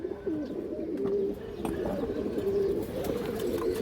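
A fancy pigeon coos close by in a steady run of low, throaty, rolling calls that carry on without pause, with no voices over them.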